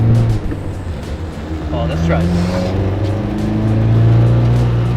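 A K-swapped Mazda RX-7 fitted with a carbon fiber rear diffuser on a test drive, its engine droning steadily from inside the car and rising in pitch as it accelerates. A voice speaks briefly over the engine.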